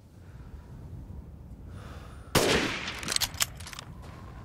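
A single loud gunshot headshot in Resident Evil Village cracks out after a quiet, faintly rumbling stretch, followed by a few smaller sharp knocks and rattles.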